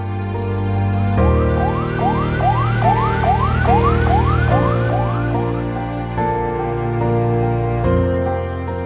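A loud ambulance siren wails close by, its rising sweeps repeating rapidly over a steady engine drone, then the pitch settles into a sustained tone.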